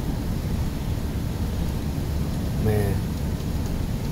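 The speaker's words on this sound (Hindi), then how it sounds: "बहुत बारिश है।" Heavy rain making a dense, steady hiss throughout, with a voice briefly speaking over it.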